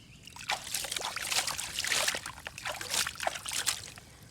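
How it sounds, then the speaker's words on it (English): Water is poured and splashed over toy trucks being cleaned, a close, trickling, sloshing stream with irregular spatters over a few seconds. "Now I put some water so we can see some parts of any cars here."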